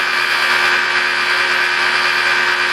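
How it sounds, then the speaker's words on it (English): Rotary polisher fitted with a wool pad, running at about 1500 to 2000 RPM on black car paint, a loud, steady whirring drone that holds constant throughout. "I don't burn through with the polisher either"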